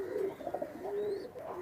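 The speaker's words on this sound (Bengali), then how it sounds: "ভাই এটা কি কবুতর?" Pigeons of a Bratel bloodline coo in low, throaty, wavering notes, a few soft calls running back to back close by with no talking.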